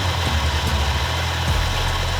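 A built car engine idling close and loud with a steady low rumbling throb and broadband mechanical hiss, with no talking.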